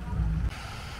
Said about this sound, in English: Oh yeah, she's spinning good.